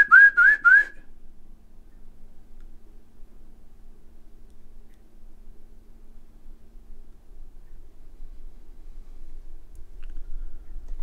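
Three quick rising whistles, loud and close, in a supposedly haunted house during a paranormal investigation, followed by a long near-silent stretch with faint low room rumble.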